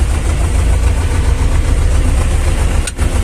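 A vehicle engine runs steadily and loudly at close range, a continuous low rumbling drone as it drives closer across a farm field, with a brief knock near the end.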